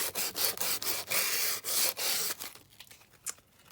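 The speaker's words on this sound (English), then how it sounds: "just sanding down around these edges" Coarse abrasive scraping of a sanding tool along torn paper edges for a Victorian-themed junk journal, in quick repeated rubbing strokes, close and fairly loud, with brief pauses and no talk.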